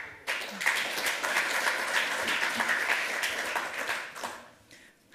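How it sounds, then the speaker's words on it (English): Applause in a conference hall during a lightning-talks session fills the space as a steady wash of many hands clapping, rising quickly, holding for several seconds, then tapering off. "round of applause"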